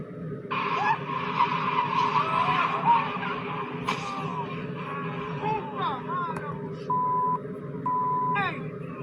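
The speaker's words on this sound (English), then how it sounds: "witnesses watched video game developer Vince Zampella zoom out of a tunnel in his red Ferrari" A red Ferrari skids as it speeds out of a tunnel. Tires squeal and the engine roars at a middle distance for several seconds, with faint voices and a few short electronic beeps mixed in.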